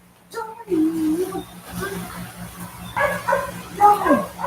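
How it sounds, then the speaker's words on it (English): Dogs barking excitedly outside, a mix of yelps and barks in bursts, with someone talking over them. "don't know what the dogs are going crazy about out there"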